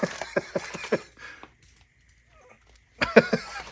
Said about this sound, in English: My dog's going after it.